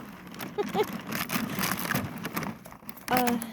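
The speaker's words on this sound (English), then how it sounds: "So water bottles, noise, they play in there, and it makes so much racket." Plastic water bottles crinkle and crunch in a loose, scrambling racket as seven-week-old puppies play, with a few small squeaky yips rising out of the clatter.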